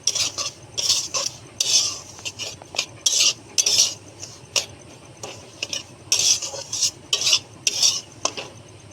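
Semolina and flour stirred in a pan as they roast, with repeated close scraping strokes of a utensil against the metal in an irregular rhythm, no voices.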